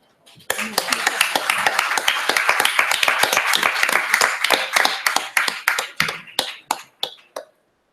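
An audience claps for a speaker returning to her seat at a gender and climate solutions panel event: dense, steady applause that swells, then thins into scattered last claps before stopping.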